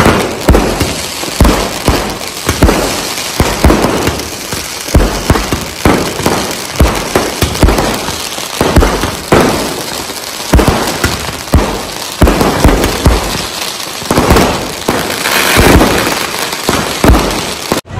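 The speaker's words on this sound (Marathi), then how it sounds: "मंदिराच्या वरती बघा चारी बाजून किती फटाके फुटतायत" Fireworks and firecrackers burst above the Jai Hanuman temple in Dativali village during its first anniversary celebration, a dense, loud, continuous barrage of sharp cracks and pops for the whole stretch, with no voices.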